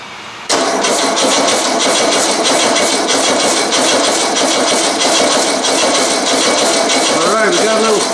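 An old Volkswagen engine cranks over loudly and continuously after eight years sitting, starter churning in a steady rhythm close by while someone tries to draw fuel up to the filter, with no clear catch.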